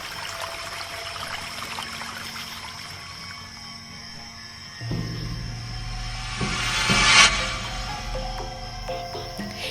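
Water poured from a bottle over a person's head, heard as a low trickling stream that swells into a fuller, louder pour partway through before settling.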